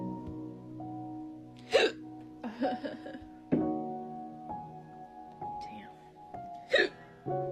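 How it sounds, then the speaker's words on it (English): A person hiccups repeatedly with uneven spacing, about four sharp bursts, under a voice and with a steady musical drone in the background. "Will help get rid of the hiccups."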